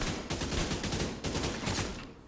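Automatic rifle fire in The Division 2 shooter game, loud controlled bursts of rapid shots in two main volleys separated by a brief pause, close and dominant with no talking.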